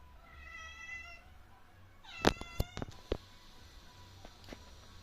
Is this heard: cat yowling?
yes